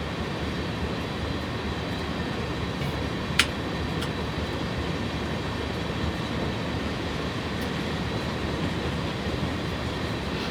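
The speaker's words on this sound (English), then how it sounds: "It's nicely timed, that AI train leaving just as we got here." A BNSF freight train, a computer-controlled AI train in Train Simulator 2018, pulls away with a steady rolling rumble and rail noise throughout, one sharp metallic click partway through, and no voices.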